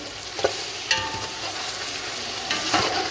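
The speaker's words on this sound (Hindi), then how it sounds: "प्याज, लहसुन और हमारा चिकन अच्छे से भून चुका है। अब यहाँ पे हम टमाटर शामिल करेंगे।" Chicken, onion, garlic and tomatoes frying in a pan for a biryani hiss with a constant close sizzle, broken by occasional scraping taps as the mixture is stirred. Nobody talks.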